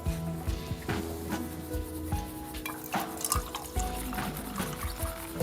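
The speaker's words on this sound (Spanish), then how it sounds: "vierta agua en el recipiente superior" Water poured into an upper container during a classroom demonstration, a trickling, splashing stream with irregular drips and knocks, fairly quiet and continuous throughout, with no voices over it.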